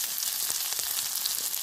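Chopped garlic frying in oil and ghee in a home kitchen pan for Indian-style pasta, giving a steady close sizzle with faint stirring taps and no talking.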